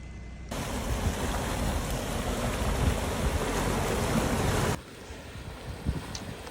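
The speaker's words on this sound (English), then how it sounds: "The water's still flowing real good." Steady broadband rush of water flowing through a broken-out beaver dam, loud and close, holding constant for several seconds before dropping to a quieter outdoor background.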